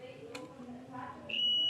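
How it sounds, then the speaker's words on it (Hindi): A small electronic buzzer clipped to a wire pushed into a wall socket sounds a steady, shrill high tone that starts abruptly near the end and holds. Faint speech and handling noise come before it. "ये वायर सही है या ख़राब है इसका हम इस बजर से पता कर सकते हैं"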